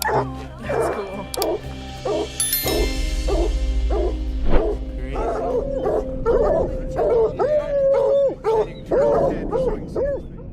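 Hunting dogs used for mountain lion hunting bark, yip and bay in repeated bursts at close range, with whimpering howls rising between barks and people talking in the background.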